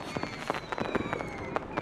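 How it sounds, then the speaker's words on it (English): Video game firework lit by hand, a rapid string of sharp crackling pops and bursts with a faint fizzing hiss behind them, close and fairly loud. "You listen to Marius and take a few steps back, watching as he lights the firework. The sparks soar high before bursting"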